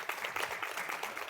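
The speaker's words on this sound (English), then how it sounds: "Can you give the men a round of applause?" Audience applause for the men in a room at a UKWIN event, a short steady burst of many hands clapping at moderate volume.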